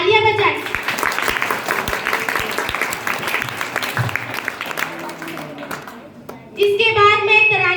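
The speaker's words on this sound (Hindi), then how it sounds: "तालियां बजाएं।" Audience clapping at a school event in a hall, steady applause with sharp individual claps near the microphone, fading out before a voice and brief musical tones come in at the end.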